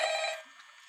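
A telephone rings briefly in the Five Nights at Freddy's horror game, one bright electronic ring that fades out quickly.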